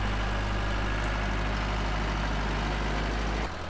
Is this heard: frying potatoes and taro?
no